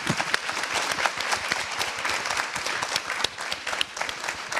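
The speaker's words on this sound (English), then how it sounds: "Can we give everybody a big round of applause, please?" Audience applause at a Women's Day event in the Senedd, steady dense clapping from a crowd, fairly close and sustained throughout.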